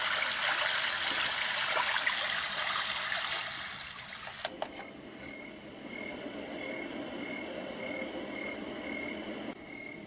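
A portable sound machine plays a brook setting, a steady babbling stream with a faint chirping insect layer, shifting after a brief click midway to a slightly different water-and-cricket texture, continuous and moderately loud with no talking.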